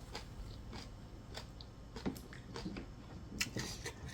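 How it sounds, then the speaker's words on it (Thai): Close, quiet chewing of rice with stir-fried fermented fish chili paste, soft wet bites and squishy mouth sounds at an irregular pace, with no talking. "ขอเคี้ยวก่อน"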